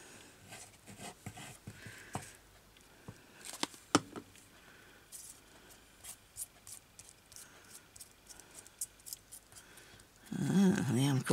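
Scissors snipping paper and fabric pieces for a fabric and lace craft journal, a series of soft scattered clicks and cuts at close range, faint against quiet room tone, with a brief louder rustle at the end.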